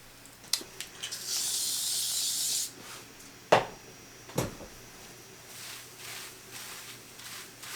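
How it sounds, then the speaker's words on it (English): Surfer 8 braid oil sprayed onto hair in long faux locs with curly tips: a sustained close hiss lasting about two seconds, with a few short sharp sprays and soft rubbing afterward. "But this is their braid oil. Put a little bit on my hair."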